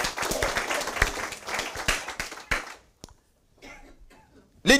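A church congregation claps and cheers for Jesus during a French-language sermon, a loud burst of applause that fades out midway, followed by quiet murmurs and a sharp noise at the end.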